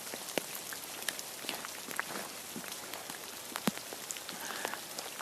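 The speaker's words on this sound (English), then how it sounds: "I'm going to just leave it with the sound of the rain." Steady rain falls in a graveyard, a dense patter of drops with scattered sharper splats and taps close by, alone without voices.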